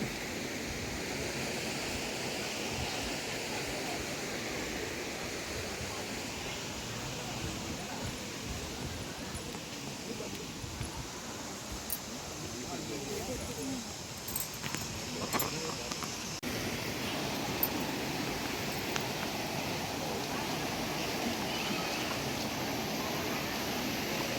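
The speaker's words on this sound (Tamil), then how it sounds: "இங்கே ஒரு இடத்துல பாருங்கள் ஃபால்ஸ், தண்ணி எப்படி வருதுங்க." The Panchalinga waterfall at Thirumoorthy Hills pours in a steady, broad roar of rushing water that fills the whole stretch at a moderate level, with no break and no voices over it.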